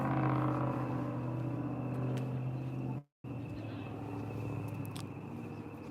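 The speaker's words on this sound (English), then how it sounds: "That's a truck engine right at the corner of the building." A truck engine idles at the corner of a building, a steady low rumbling drone throughout with a brief dropout midway, then continuing unchanged.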